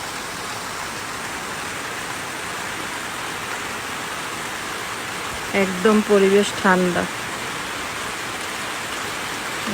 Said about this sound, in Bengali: এই যে দেখেন বৃষ্টি হইতেছে।